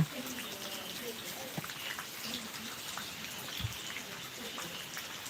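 Soft, steady patter of monsoon-style rain in Mangalore fills the air, with occasional louder drips landing close by.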